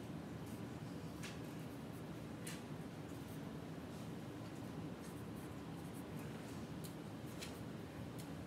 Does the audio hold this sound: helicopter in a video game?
no